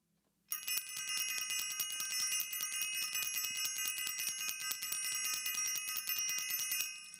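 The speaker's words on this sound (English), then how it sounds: "I'm going to ring the bell for self-invested" A bell rung rapidly and continuously for several seconds, a bright metallic ringing that starts abruptly and stays loud and even before stopping, heard alone.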